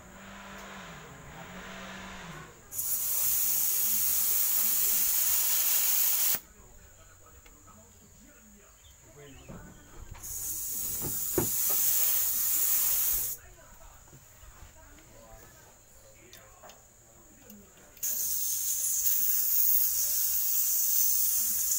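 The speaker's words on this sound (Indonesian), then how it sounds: "Sudah kita turunkan, kita buang dulu anginnya." Compressed air bursts out of an air compressor tank as it is drained, coming in several loud, steady hissing blasts of a few seconds each, separated by quieter gaps with faint background noise.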